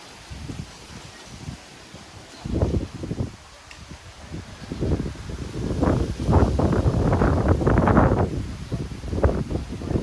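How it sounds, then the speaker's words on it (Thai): Dry, cold wind blows across open rice fields, gusting against the microphone in uneven rumbling bursts that build and grow louder toward the end, with rustling underneath. "ลมแห้งแห้งค่ะ หนาวเริ่มมาอีกแล้วค่ะ"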